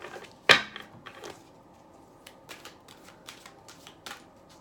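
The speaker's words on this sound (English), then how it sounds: "I'm going to shuffle them one more time and then I'll split the deck" Tarot cards being shuffled slowly by hand, a sharp riffle burst near the start followed by a scatter of soft, close card flicks and taps in a quiet room.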